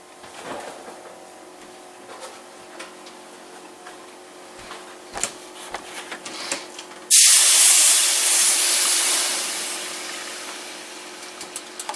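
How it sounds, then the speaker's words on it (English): Milk poured into a hot cast-iron skillet for cornmeal gravy bursts into a loud, steady sizzle partway through. It follows quieter ticking and scraping, then slowly eases off. "Just put some milk in there."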